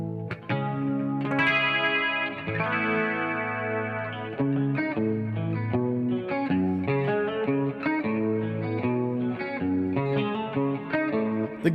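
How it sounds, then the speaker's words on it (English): Electric guitar played through a Strymon Mobius modulation pedal on its rotary setting, a steady run of picked chords and notes with a swirling, lightly distorted tone, close and continuous with no talking. "The go-to rotary sound I use is the Strymon Mobius."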